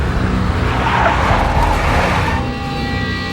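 In the Max Payne video game, a car skids with loud tires squealing and an engine roaring up close, then the squeal fades out as the engine noise carries on.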